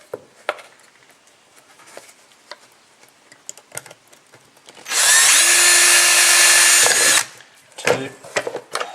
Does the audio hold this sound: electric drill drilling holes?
yes